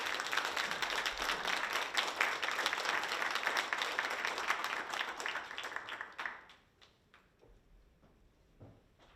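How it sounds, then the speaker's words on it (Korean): An auditorium audience at a Korea University lecture gives a long, dense round of applause to welcome an emeritus professor. The clapping stays loud and steady for about six seconds, then thins out to a few scattered claps. "모두 큰 박수로 맞이해 주시기 바랍니다."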